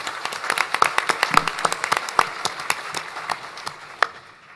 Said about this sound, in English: let's give them all a round of applause for this conference